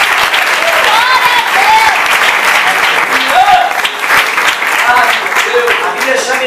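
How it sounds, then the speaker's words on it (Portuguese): Church congregation applauding loudly and steadily during a Portuguese-language worship service at Pompeia, with voices singing or calling out over the dense clapping. "Pode aplaudir a Jesus Cristo, quem merece."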